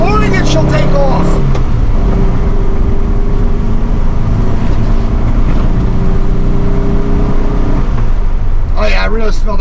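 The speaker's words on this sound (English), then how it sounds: "Flooring it, she'll take off." A 1964 VW Beetle with a 1600cc dual port engine accelerates at full throttle, its steady loud engine drone and road rumble filling the cabin, with a voice speaking briefly at the start and the end.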